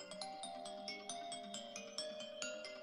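A soft, sparkling iOS 26 iPhone ringtone with evenly spaced chime-like notes repeats in a steady rhythm, fairly quiet and with no voices.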